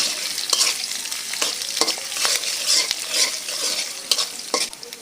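Green chillies and garlic fry in a pan for drumstick-leaf bhaji, making a bright, busy sizzle. Repeated sharp scraping strokes of stirring come throughout, close and fairly loud, with no speech.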